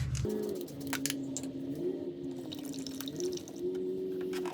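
Motor oil glugs and pours steadily into a 2010 Toyota Corolla engine in a quiet space, with a gurgling tone and small splashes along the way.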